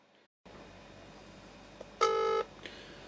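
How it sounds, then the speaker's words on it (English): A short burst of dialing tones from an Android smartwatch placing a phone call, a loud steady beep lasting under half a second over a quiet background, with a fainter tone just after. "So we're just making a phone call right now, directly on the watch."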